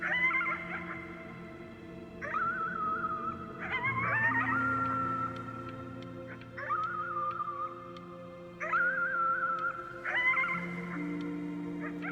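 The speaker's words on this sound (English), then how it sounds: "You howled at the moon at the top of your lungs." A player character in the video game Before Your Eyes howls at the moon at full voice, a wavering, wolf-like human howl repeated in several long, loud phrases over a steady low musical drone.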